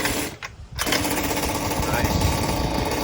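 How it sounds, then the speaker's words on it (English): A Goped Sport scooter's 29cc two-stroke engine sputters briefly, then catches and holds a loud, buzzy, rapid idle close by, with a voice talking over it. "First start up, boys. Fresh ped. Just letting it warm up, man."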